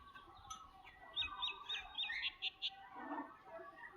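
Farmyard chickens cluck and call in short bursts close by, with a few sharper squawks, while ducks forage in mud nearby; a low murmur of background noise runs underneath.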